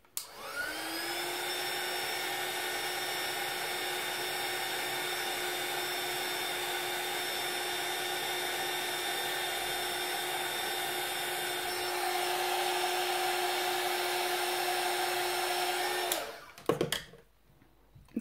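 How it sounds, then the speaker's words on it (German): A hair dryer blows steadily and loudly for about sixteen seconds while drying a stamped handmade card, its whining hum holding constant before it cuts off, followed by a few small clatters. "das werde ich auch kurz föhnen"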